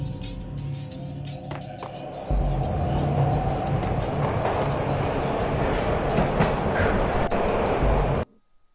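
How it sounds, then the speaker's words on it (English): Train ride in the video game Max Payne: a loud, steady rail rumble with rattling clatter that swells partway through, runs without pause and cuts off abruptly near the end. "This was my second train ride of the night."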